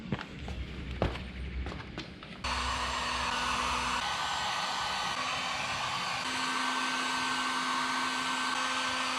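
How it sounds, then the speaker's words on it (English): A heat gun blows steadily over freshly painted, heavily coated parts during an EF Civic hatch K20 swap build, a constant loud airy roar that kicks in after a few seconds of shuffling and handling noises. "I need to heat gun it."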